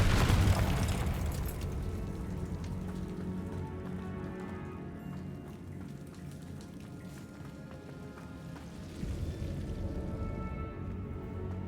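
A Confringo fire spell in Hogwarts Legacy bursts with a sudden booming blast, then settles into a low crackling, rumbling roar that swells again near the end.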